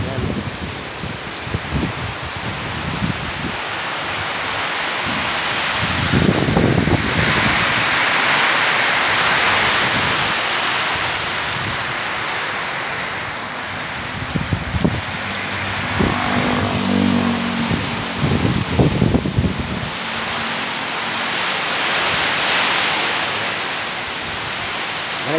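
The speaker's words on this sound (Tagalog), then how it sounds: "Grabe lakas ng hangin. Nakaulan." Typhoon Opong brings strong wind and rain at signal number 3 in Buenasuerte, Nabas, Aklan, with a loud, continuous roar of gusting wind and rain that swells and eases over the whole stretch, with no clear voices.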